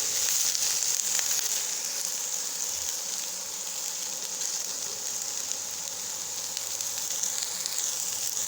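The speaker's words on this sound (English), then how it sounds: "now I am adding the cut Marsilia leaves. That is the green leaves which I have cut." Cut Marsilea leaves sizzle steadily as they fry in a pan, a continuous bright crackling hiss that holds at an even level throughout with no talking.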